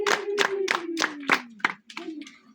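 A church audience claps in thanks to God: eight or so loud, evenly spaced claps in unison, slowing slightly toward the end over a sustained held tone.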